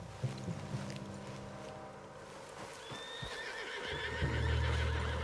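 A horse whinnies with a rising, wavering neigh, alongside clopping hooves and a low droning rumble, in the video game Red Dead Redemption 2.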